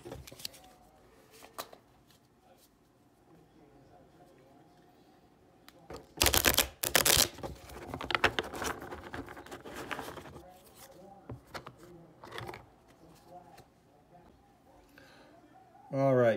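A tarot deck shuffled and cut, giving a sudden burst of loud papery riffles in the middle, with quieter card handling before and after. A voice speaks nearby.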